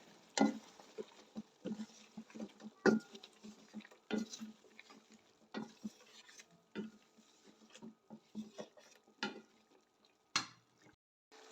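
Spices stirred and roasted in a pot for a shahi chicken korma, with a spoon scraping and clinking against the metal in irregular strokes at a quiet, close level, alone without talk.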